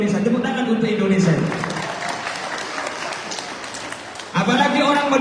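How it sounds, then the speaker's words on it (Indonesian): Applause from a congregation at a religious sermon in Jeddah, a clapping burst between about one and four seconds, with the preacher's voice audible before and after it. "Tepuk tangan untuk Indonesia"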